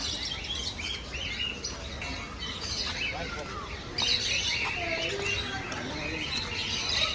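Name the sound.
parrot calling at a zoo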